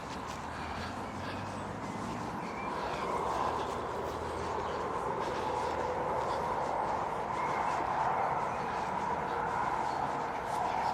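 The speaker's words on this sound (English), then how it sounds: "That noise in the background, we've got the metro going" A metro train rumbles steadily in the distance beside a large cemetery in Jarrow, a continuous low roar that swells slightly and persists throughout with no talk over it.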